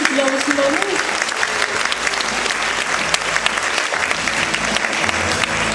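Audience applause at a Kristall ensemble performance, loud and continuous clapping from a close crowd throughout, with a few sharper individual claps standing out.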